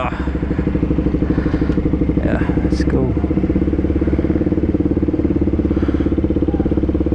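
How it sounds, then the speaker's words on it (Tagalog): A KTM RC200 motorcycle fitted with an SC Project exhaust runs close by with a steady, rapid, throbbing engine note that holds loud throughout, while a voice speaks briefly over it. "sinound test lang natin yung motor"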